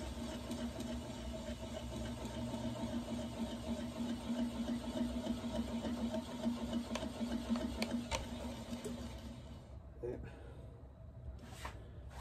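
An ash log bowl spins on a wood lathe slowed to about 200 RPM, giving a steady low mechanical hum with faint scraping that drops away near the end.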